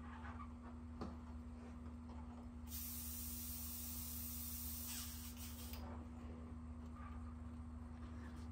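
An airbrush sprays paint onto a jumbo rat wake bait fishing lure, a soft high hiss bursting for about three seconds over a constant low compressor hum.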